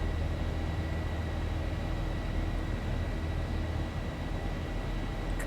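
A Southwest Boeing 737 taking off in the X-Plane 11 flight simulator: a steady, loud, broadband jet engine roar holds evenly throughout, with no talk.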